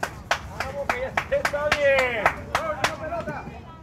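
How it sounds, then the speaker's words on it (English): Baseball crowd at a playoff game clapping in a steady rhythm of sharp, loud claps, with voices rising and shouting between them. "Crowd getting a little bit more boisterous now as this game is getting even more intense."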